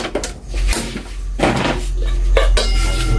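Cooking pots handled and knocked together in a home kitchen, giving a loud, close, continuous clatter of metal clanks and scrapes with several sharper bangs.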